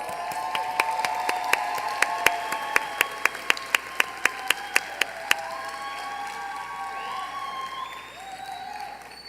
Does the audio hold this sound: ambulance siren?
no